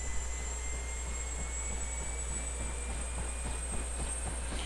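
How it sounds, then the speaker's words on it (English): A helicopter turbine engine spools up in the DCS World flight simulator: a constant low rumble under a thin, high whine that climbs slowly in pitch, with no talking. "That engine you hear starting up,"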